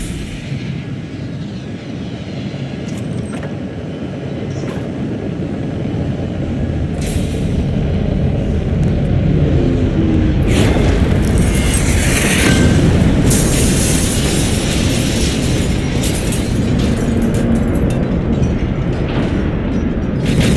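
An EcoPod from the game Ground Control plunging through the atmosphere and landing, a loud roaring rumble building steadily with booming bursts and crackling hiss toward the end, no voices.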